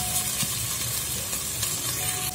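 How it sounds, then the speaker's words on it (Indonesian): Spices sizzle steadily as they are sautéed in a pan while a spicy tuna curry is being made, with an even, continuous frying hiss and a few soft stirring knocks close by. "Tumis hingga wangi, lalu masukkan cabai giling dan tumis lagi hingga wangi."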